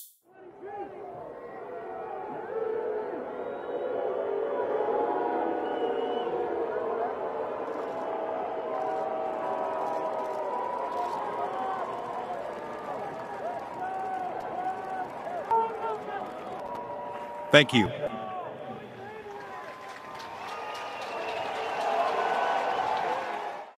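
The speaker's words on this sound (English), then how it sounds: "They booed a moment of unity." Large NFL stadium crowd roaring in a sustained, dense wash of voices with jeers, a brief sharp knock near the end, and a spoken voice briefly over the crowd.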